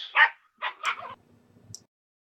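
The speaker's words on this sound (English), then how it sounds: "Damn dogs." Dogs barking outside near a gate: a few sharp bark bursts in quick succession, then a softer trailing yip, moderately loud and close, with no talk over them.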